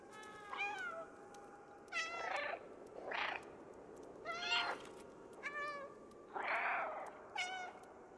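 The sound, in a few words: cat meowing in the video game Stray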